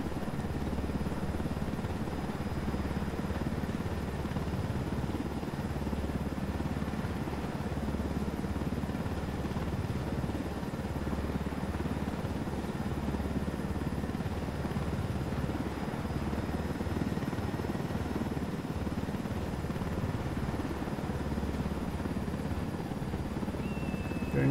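A helicopter flies in the Ghost Recon Wildlands video game, a steady, loud rotor and engine drone that holds for the whole stretch with no break, heard alone without talk.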